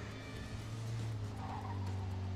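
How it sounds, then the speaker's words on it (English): Tires skidding on a fast convertible during a police chase in Mafia II, a steady squeal over a droning engine hum, close and continuous for a couple of seconds. "this cop car was like gaining on my tail, even in this fast convertible"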